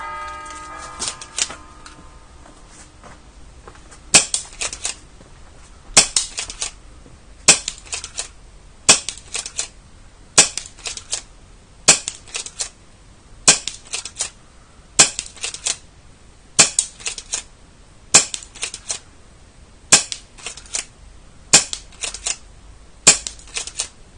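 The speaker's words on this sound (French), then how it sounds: "on va faire les tests de tir pour le fusil à pompe" Test shots from an A&K M870 airsoft pump-action shotgun fired at a target: about a dozen sharp, snappy cracks at a steady slow rhythm, each separated by a pause of roughly a second and a half, with no talking.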